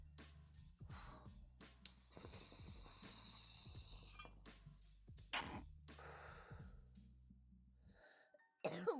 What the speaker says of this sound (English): One nose cough.